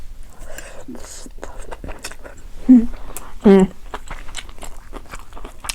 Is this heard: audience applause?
no